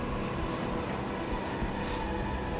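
A train pulls into a station in the video game 13 Sentinels: Aegis Rim, producing a steady, dense rumble of rolling wheels and carriages with a faint high squeal.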